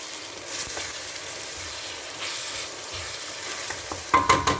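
Garlic ginger paste, thawed from frozen cubes, sizzles steadily in a hot pan for green chilli keema, with a spoon scraping and stirring through it and a few sharper clinks of utensil on metal near the end.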